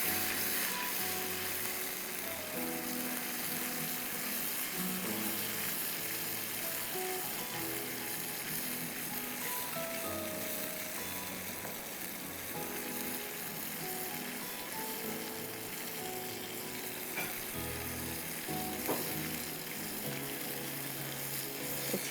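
Onions sizzle and fry in a pot with leftover kofta filling, a steady close hiss with occasional stirring scrapes, continuous throughout.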